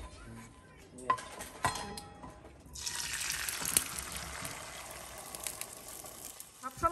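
Steel plates and cooking pots clink and clatter onto a dining table in a Bangladeshi home, with a few sharp knocks and then a longer stretch of scraping and rattling, soft overall and with no clear speech.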